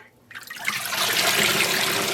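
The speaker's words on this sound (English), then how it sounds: "Okay, I'm gonna refill this with water." Water refilling a container that holds unspun fiber roving during immersion dyeing, a steady broad splashing rush that builds quickly after a brief quiet start and stays loud and continuous.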